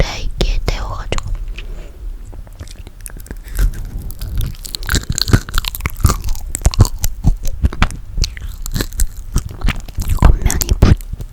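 Crunchy, crisp-skinned roasted marshmallow warmed in an air fryer, eaten up close in a whispery ASMR setting, with repeated sharp crunching bites and chewing clicks throughout, along with soft mouth sounds.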